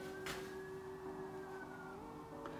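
Siren drifting in from outside an urban student bedroom, a steady wavering wail held at a distance, faint and continuous throughout.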